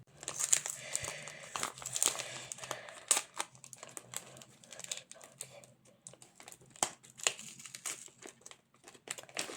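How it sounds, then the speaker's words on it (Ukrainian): Crisp crinkling and rustling of paper surprise packets being handled and torn open, in irregular bursts of small crackles, close and fairly quiet. "Відкриваємо ось такі пакети."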